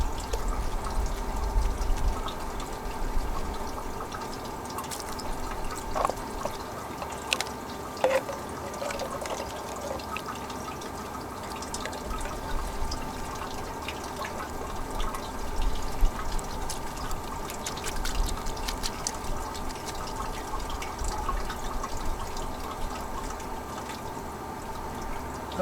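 Water runs steadily through a Goldrop gold recovery system processing Snake River paydirt, a continuous pouring and trickling flow with occasional drips, close and even throughout.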